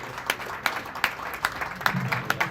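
Scattered applause at a post-fight boxing press conference for Gennady Golovkin, with a handful of distinct claps spaced irregularly over a low room background.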